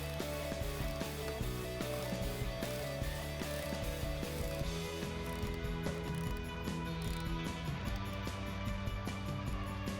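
Hand ratchet tightening a bolt on a 2009-2018 RAM truck tailgate while fitting a tailgate assist shock: steady, rapid clicking pawl strokes run continuously and close up throughout, with no talking.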